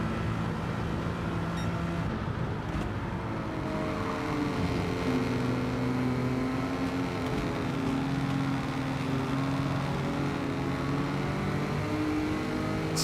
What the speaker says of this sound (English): Listen to the sound of that Corvette.